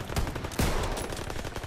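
Dense gunfire from enemy soldiers in Call of Duty: WWII, a continuous rattle of shots with a louder burst partway through, steady and fairly close throughout.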